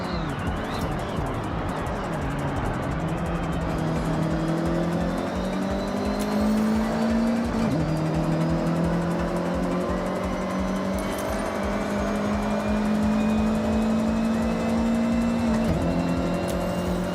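A car in the racing game Forza Horizon 6 drives flat out at top speed, the engine holding a loud, steady high drone with brief dips at gear shifts and faint tyre noise, with no talk.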